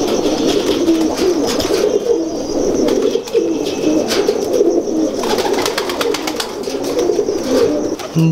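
Several Ferozpuri pigeons cooing close by, overlapping low throaty coos with occasional wing flutters and light chirps, no talking.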